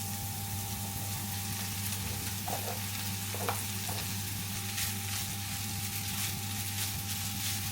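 Cooked rice and spring onion whites stir-fry in a hot pan for vegetable fried rice, making a continuous even sizzle with a few soft scraping stirs, no talking.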